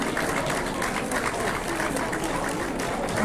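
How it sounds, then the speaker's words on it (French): Audience at a high school short-story prize ceremony applauding a winner, with steady, fairly quiet clapping from a crowd throughout. "Alors là, bravo, vous pouvez l'applaudir."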